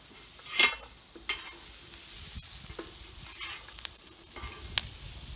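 Beer brats sizzle in a pan on a Watchman camp stove outdoors, a soft continuous fry with occasional clinks and scrapes of utensils against the pan, fairly close and moderate in level.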